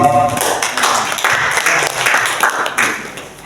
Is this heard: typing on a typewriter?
no